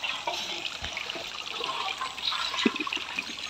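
Water from a natural spring at a village well trickles and splashes steadily nearby, a soft, continuous flow with small gurgles and no voices.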